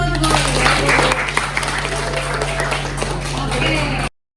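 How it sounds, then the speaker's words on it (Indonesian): Classroom applause from students during a lesson, dense close clapping that holds steady for about four seconds before cutting off abruptly, with some voices mixed in. "tepuk tangan buat Goli."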